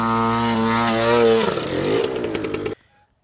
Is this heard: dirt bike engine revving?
yes